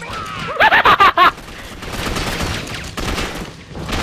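Gunfire erupts in the video game Gotham City Impostors: a quick burst of about five loud, sharp shots, followed by a denser, more distant spray of rapid fire that keeps rattling to the end.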